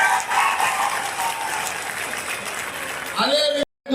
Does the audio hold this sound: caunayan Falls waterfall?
no